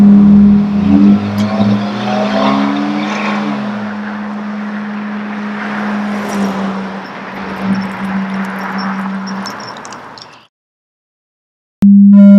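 Cars drive past at close range with a loud engine roar and a steady droning tone whose pitch drops as they go by, fading over about ten seconds before cutting to silence.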